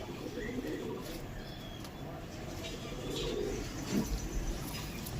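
Low, soft cooing from a lively pigeon held in the hand, rising slightly toward the end against a steady background hum of other birds.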